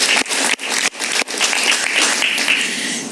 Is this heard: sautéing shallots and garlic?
no